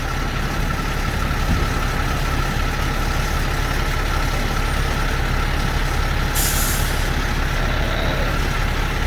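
A fire truck engine idles loudly and steadily at a trash truck fire, with a sharp hiss from its air brakes partway through, heard close and without talk.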